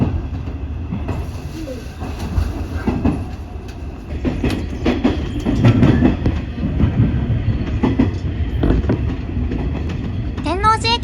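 A JR Kansai Line train pulls out of Tennoji station with a loud, steady rumble and clatter of wheels on rails and a brief high squeal near the end, while a voice talks over it.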